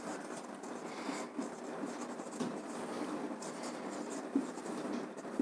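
A pen scratches steadily across paper as a balance equation for a Schering bridge is written out by hand, producing a continuous, close, even writing sound with no talk.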